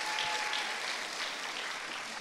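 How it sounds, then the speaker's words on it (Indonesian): Audience applause fills a hall at a youth leadership festival as a vice governor of East Java is welcomed: a steady, fairly soft wash of many hands clapping with no talk over it. "Tepuk tangan dong."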